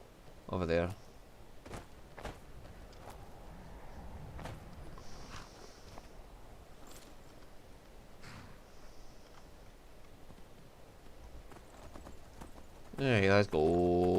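Sparse horse hoof clops from Skyrim Anniversary Edition sound at a steady walking pace over a low background hum, with brief bright bursts near the start and end.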